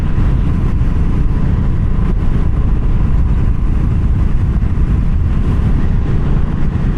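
BSA Goldstar 650 single-cylinder motorcycle on a test ride, its engine a steady, loud low rumble mixed with wind and road noise throughout, with no talking.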